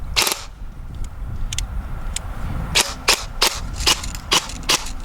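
A G&G Cobalt Kinetics BAMF airsoft gun, poorly connected to its magazine, fires a string of sharp, close snapping shots, one early and then a quicker run of about eight irregularly spaced cracks.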